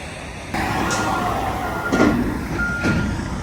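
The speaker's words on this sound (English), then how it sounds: "the yard jockey's on it. He is quick. Hooking up those trailers and moving them" A yard jockey truck hooks up and shifts trailers in a busy freight yard, a steady loud engine drone with rising whines and hissing swells, heard from close by without speech.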